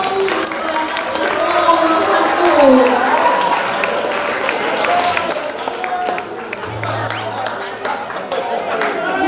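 Audience at a political campaign rally for candidate pair 1 breaks into sustained applause, a dense wash of clapping and crowd noise with voices and cheering mixed in.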